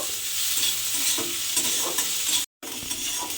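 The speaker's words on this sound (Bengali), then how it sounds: "এবার পেঁয়াজ আদা আর কাঁচা লঙ্কাটা একটু ভেজে নেব।" Onion, ginger and green chili sizzle in hot oil in a pan, a bright steady frying hiss with scraping stirs throughout and a brief dropout near the end.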